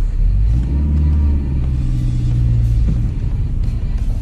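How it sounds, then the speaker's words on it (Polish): A car engine idles and revs inside a garage, a loud steady low rumble with slight swells in pitch, running alone. "Zaraz jedziemy ze samochodem"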